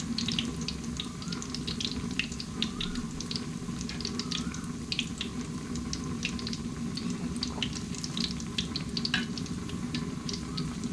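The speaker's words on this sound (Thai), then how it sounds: "ทอดปลาเห็ดใส่บาตรตอนเช้าๆนะคะ" Thai fish cakes (pla het) fry in a pan before dawn, oil crackling and spitting steadily with dense, fine pops over a low continuous hiss, close and even throughout with no voices.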